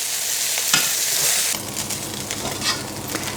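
Flour-dusted steak pieces brown in hot oil in a casserole dish, a loud, close sizzle that shifts character midway as pieces are moved, with brief scraping stirs and no voices.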